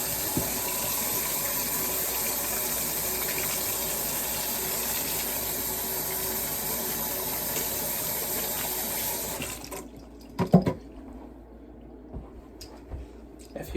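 Kitchen tap running steadily into a sink while hands are washed with soap, a close, even splashing flow that stops near the end, followed by a few faint clunks and drips.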